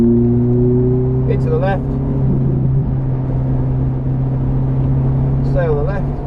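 A Ferrari F430's engine drones and builds on a wet Silverstone circuit, heard from inside the car. An instructor's voice talks over the steady engine note.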